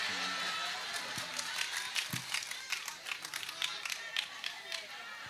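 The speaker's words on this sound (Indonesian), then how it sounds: "Siapa tadi tepuk tangan Haikal" Audience at a lively Islamic sermon gathering claps in a scattered burst of sharp hand claps over crowd murmur, fairly near and moderately loud.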